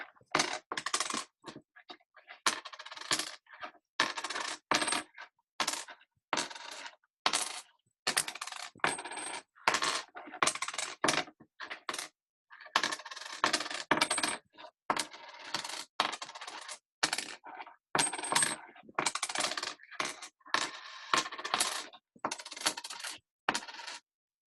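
Coins drop one after another onto a wooden bench, each with a bright metallic clink and ring, spaced in an uneven series with short silences between.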